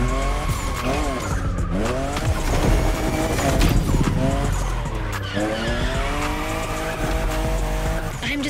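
A Toyota Supra, fifth generation, drifting in The Crew Motorfest, its engine revving and rising in pitch while tires squeal and skid through repeated slides, loud and close with game music beneath.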